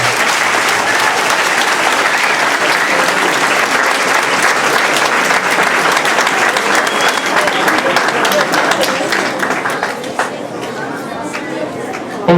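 Loud, sustained audience applause with cheering at a community school event, dense clapping that tapers slightly near the end, with crowd chatter mixed in.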